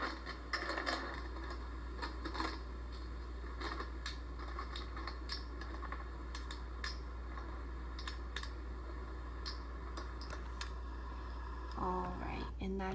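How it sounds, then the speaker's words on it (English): Poker table background sounds: scattered clicks and light clatter of chips tapping together and cards being shuffled, continuous and fairly quiet throughout, with brief faint voices near the end. "the poker chips clicking together"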